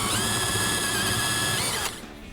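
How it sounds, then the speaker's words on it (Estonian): A power drill whines steadily at high speed for about two seconds while drilling through a hole in a homemade bed frame, then cuts off abruptly, leaving quieter background noise. "läbi ava tuleb puurida."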